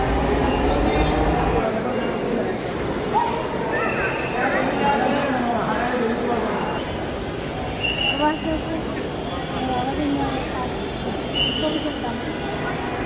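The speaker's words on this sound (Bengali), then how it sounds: "ফাইনালি হচ্ছে আমাদের মেট্রো ট্রেন চলে এসেছে" A Dhaka metro train pulls into the station with a steady rolling rumble and brief wheel squeals, heard close under the ongoing chatter of people on the platform.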